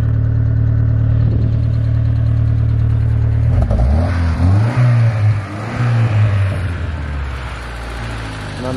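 A car engine running loud and close while driving on a rough road to an abandoned mountain village in Dagestan, with a steady low drone that shifts pitch as it revs, over rattles and clatter.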